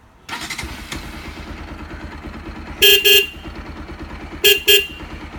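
A Roots dual horn fitted to a Bajaj Pulsar 200NS motorcycle sounds two paired short honks, then another double blast, loud and close over the bike's idling engine, which starts up just beforehand.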